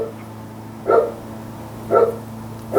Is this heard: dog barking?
yes